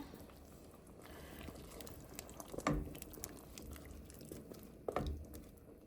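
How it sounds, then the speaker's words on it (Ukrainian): Pot of soup with carrots and potatoes simmering, faint bubbling with a couple of brief louder splashes or stirs, quiet and close, no talk. "Так, морквочка вже підварилася, тепер даємо картопельку. Хай теж вариться."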